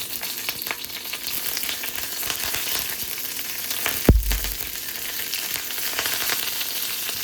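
Dried red chili and curry leaves frying in hot oil, a steady close crackling sizzle that runs throughout, with one brief louder clatter midway.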